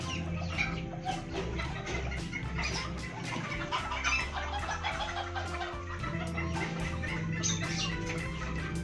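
Several chickens cluck steadily nearby in a cemented coop, with overlapping soft clucks and calls continuing throughout in an enclosed space.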